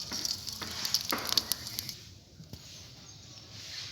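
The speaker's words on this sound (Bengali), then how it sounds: "ফোড়নে দিচ্ছি তেজপাতা, আর দিয়ে দেবো কোনো গোটা জিরে।" Bay leaf and whole cumin crackle in hot oil as a tempering, giving soft irregular spits and pops that are quiet and close, then thin out into a faint, steady sizzle.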